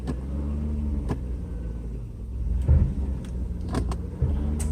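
A 1993 Mercedes 600SL idles and rolls forward with a low engine rumble, a few clicks and knocks along the way, no one talking.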